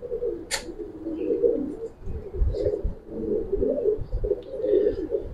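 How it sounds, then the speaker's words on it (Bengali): Giribaz pigeons at a loft cooing in low, rolling repeated phrases close by, with a short sharp noise near the start and no talking. "খুবই ভালো কবুতর পাইবেন"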